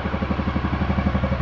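A VFR motorcycle engine at assisted idle of about 1500 RPM, a fast, steady rhythm with regular exhaust pulses from the exhaust pipe, close and continuous.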